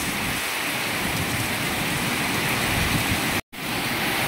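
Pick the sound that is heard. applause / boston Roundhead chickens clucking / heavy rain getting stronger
heavy rain getting stronger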